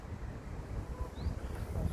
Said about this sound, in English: it's going to get over this wind. It's so windy.